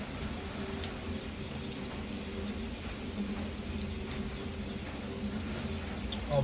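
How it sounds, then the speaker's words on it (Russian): Steady rain patters densely on a surface, a continuous hiss with scattered drops, constant and fairly close throughout. "Дождь что-то сильно разошелся."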